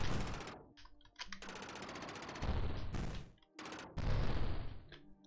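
Shooting units in a video game fire long, loud machine-gun bursts in several sustained volleys, with brief gaps between them and overlapping rapid shots, close and dense, with no speech.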